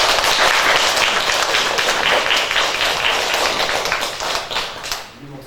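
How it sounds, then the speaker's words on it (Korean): Church congregation applauding to welcome a pastor at a Korean service, loud and close, with individual sharp claps standing out from the dense clapping before it thins toward the end. "열렬하게 기쁜 마음으로 환영의 박수 한번 해주십시다."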